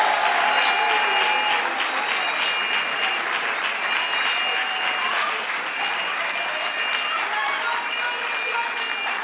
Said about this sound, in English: So let's give them a round of applause for their good work.